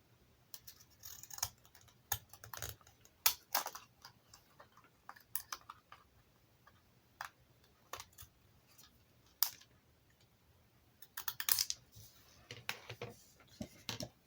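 Scissors snip through the flap of a glassine-style paper bag for a junk journal, giving quiet, close crisp cuts in irregular bursts with pauses between.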